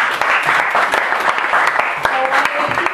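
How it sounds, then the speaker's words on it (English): Steady, dense applause from a school audience after a high school debate, continuous clapping filling the whole stretch at close range, with faint voices mixed into the crowd noise. "Let's give them a round of applause"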